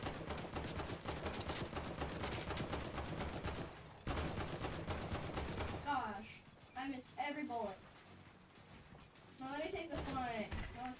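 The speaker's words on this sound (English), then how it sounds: "it doesn't sound like a normal shotgun" Rapid shotgun and weapon fire crackles continuously in the video game Fortnite, dense bursts for several seconds, then people talk over continuing background game noise and shots.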